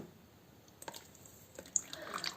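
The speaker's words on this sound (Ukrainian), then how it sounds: "І сюди ж додаю воду." Water is poured into honey cupcake batter, with a few soft drips and a light liquid splash building toward the end, close and fairly quiet in a kitchen.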